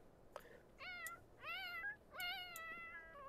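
A cat in a video game meows several times in a row, clear, drawn-out and slightly whiny calls that rise and fall, close and moderately loud over a quiet background.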